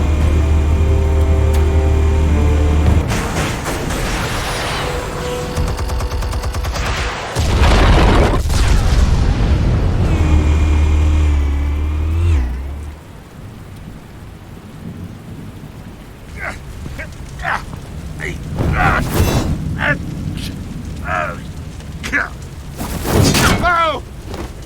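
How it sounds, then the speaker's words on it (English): Heavy booming blasts from explosives detonating in the Batman Telltale video game, loud and rumbling at first and then breaking into scattered sharp bursts and debris crackle, with game music and voices around them. "Explosives armed. Fire when ready."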